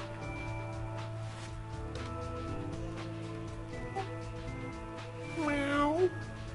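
A cat in the zombie video game Three Dead Zed lets out a rising, wavering meow near the end, over steady game music and sound effects.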